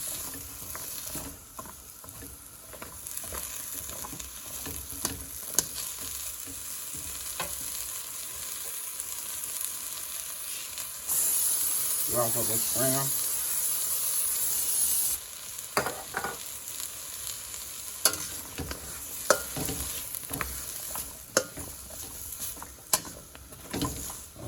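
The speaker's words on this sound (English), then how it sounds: "I'm gonna saute these bell peppers and this garlic for 2 minutes." Steady sizzling and frying of bell peppers and garlic sautéing in a hot pan, with occasional stirring clatter and a brief spray hiss midway; a voice speaks briefly.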